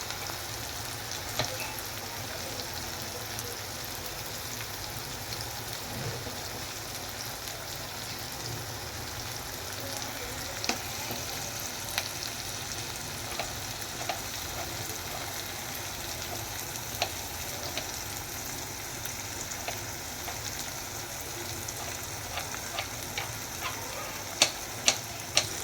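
Onion frying slowly over a low flame for egg rice, a soft continuous sizzle with faint crackles and a few small clicks near the end, no voices.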